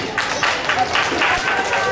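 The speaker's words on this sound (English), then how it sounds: "Let's clap for him." Children at a World Laughter Day school assembly clap for a classmate, a brief, moderately loud patter of scattered claps with voices mixed in.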